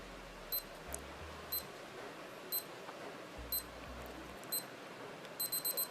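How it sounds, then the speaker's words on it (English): A vintage Casio G-Shock DW-004 digital watch countdown timer beeps in short, high electronic chirps, single and in quick bursts, faint against a quiet background hiss. "this beeping sound will keep continuing for about 10 seconds"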